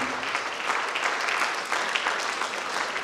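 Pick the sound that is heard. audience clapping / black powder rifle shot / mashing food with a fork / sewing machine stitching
audience clapping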